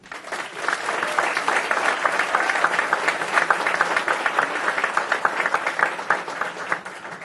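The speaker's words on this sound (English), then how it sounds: "Please give a warm round of applause to Judge Smiley." At a law school graduation ceremony, an audience gives Judge Smiley a warm, sustained round of applause, many hands clapping in a dense, steady stream that holds at full strength for several seconds.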